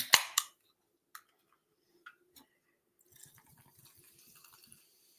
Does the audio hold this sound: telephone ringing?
no